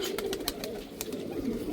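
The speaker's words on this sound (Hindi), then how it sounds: "ये चप कबूतर है सियालकोटी" Sialkoti pigeons coo in a cluster of close, soft, repeated low calls, with light clicks and flutters scattered through the brief burst.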